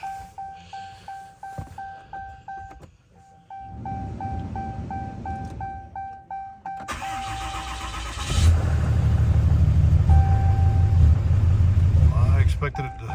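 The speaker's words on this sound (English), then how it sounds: "Didn't think it'd crank right up, but I guess it had some residual in the cylinders and injector lines." A 2016 RAM 2500 diesel cranks with repeated chugging starter pulses and several interrupted attempts, then fires and settles into a loud, steady idle rumble right after a fuel filter change.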